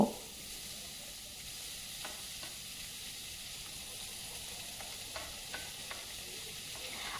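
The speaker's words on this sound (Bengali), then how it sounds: "ঝিরিঝিরি করে রাখা আলু, পেঁয়াজ, ক্যাপসিকাম এগুলো দিয়ে কিন্তু নাড়াচাড়া করব" Potatoes, onions and capsicum stir-fry in oil with black cumin, giving a steady, fairly quiet sizzle throughout with a few soft scrapes and taps as the pan is stirred.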